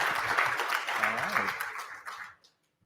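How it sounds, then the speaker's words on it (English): Applause from a conference audience welcoming presenters onstage, a dense patter of clapping that fades out after about two seconds, with voices talking over it. "Give them a round of applause."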